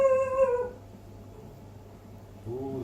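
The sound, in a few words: dog howling and whimpering while guarding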